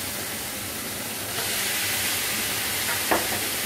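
Raw meatballs go into a hot pot of meatball soup base with spices and fresh green coriander, and a steady sizzling hiss swells about a third of the way in and holds, close and even, with no talking.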